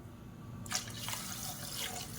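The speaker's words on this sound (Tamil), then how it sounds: "இப்போ 1/2 லிட்டர் அளவுக்கு தண்ணி சேர்த்துக்கலாம்." Water poured into a cooking pot over sautéed masala, a quiet background hum followed by a sudden rushing splash that keeps flowing steadily to the end.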